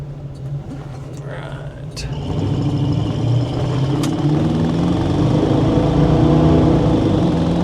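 A 1987 Chevrolet K10 Silverado pickup with a 350 V8, automatic transmission and aftermarket mufflers and tailpipes accelerates and cruises, a steady low engine drone rising around two seconds in and holding fairly loud to the end.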